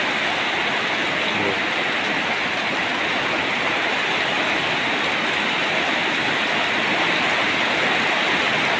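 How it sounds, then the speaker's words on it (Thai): Heavy evening rain driven by strong wind pours in a dense, unbroken roar, loud and close throughout nearly nine seconds with no pauses. "ฝนตกแล้วครับ ดูเลยนะครับดู ครับแล้วก็ตกแรงนะครับตกแรงมีทั้งลมด้วยนะครับลมพัดแรงด้วยนะครับ"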